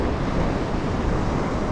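Big sea waves around a small fishing boat out on the water, a loud continuous rushing roar with no breaks and no voices.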